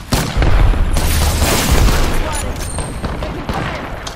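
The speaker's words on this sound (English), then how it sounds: "Grenade." Grenade blast and rapid gunfire from an Apex Legends firefight, a dense, loud burst of booms and shots that stays busy throughout with game voice callouts mixed in.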